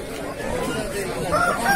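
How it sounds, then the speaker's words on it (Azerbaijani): Village roosters and other fowl at a busy Sabunchu poultry market, honking and squawking bird calls rising over a dense crowd hubbub, loudest toward the end. "Normal kənd xoruzları."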